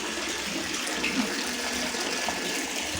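Water runs steadily into a Sintex plastic storage tank, a constant, even rushing gush with no breaks, heard moderately close.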